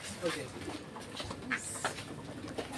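Pigeons cooing inside a pigeon loft, soft intermittent calls mixed with rustling and indistinct voices nearby.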